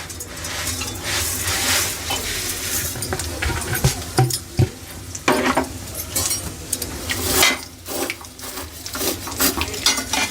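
Vermicelli frying in ghee in a pan, with a steady sizzle under repeated scraping and stirring clatter of a spoon against the pan, loud and close, with no talking.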